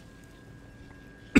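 A single short cough from a commentator during a StarCraft league match broadcast, close and abrupt, coming after a near-silent stretch.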